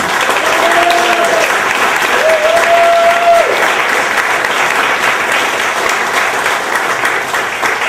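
A loud, sustained round of applause from an audience for a discussion panel, dense and even across the whole stretch, with a faint tonal hum briefly audible beneath the clapping.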